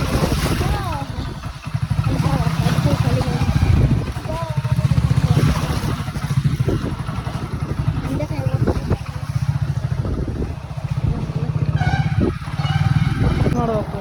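A gearless scooter's engine hums low and steady while it rides on wet ground, with rushing wind and some splashy noise throughout as someone talks over it.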